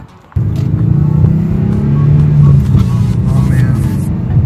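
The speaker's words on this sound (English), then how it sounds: "I actually really love driving the car after an oil change. The motor always feels so smooth after." A Subaru engine drones steadily from inside the cabin while driving just after an oil change, a smooth low hum that kicks in abruptly and holds at an even level with light road noise.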